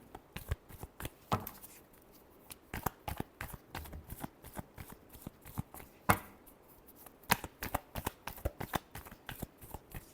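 Tarot cards being shuffled, a close series of crisp riffling flicks and soft taps in uneven bursts, fairly quiet and with no talking.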